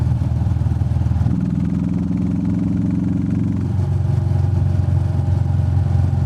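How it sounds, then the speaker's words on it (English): A Royal Enfield Meteor 350 motorcycle fitted with a DNA air filter runs with a steady, loud, thumping engine note. It briefly rises in pitch as the revs go up for a couple of seconds, then settles back to a low idle. "there's also a little bit beefier sound now"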